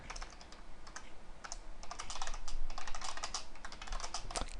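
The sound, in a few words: typing on a computer keyboard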